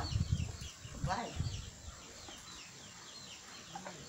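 A chicken clucks beside a river, with several short, close clucks and squawks in the first half, then quieter surroundings and faint bird sounds; people talk nearby.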